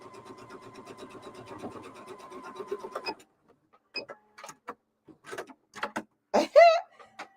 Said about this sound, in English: I'm on that last set that I'm sewing together.